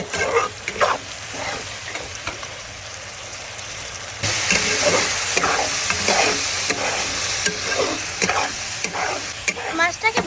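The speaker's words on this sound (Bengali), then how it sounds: "মাছটাকে ভালো মতন কষিয়ে নেব" Tengra fish sauté in a pan with a steady sizzle and repeated stirring scrapes and clatter. The sizzling grows louder about halfway through, up close, with no voices.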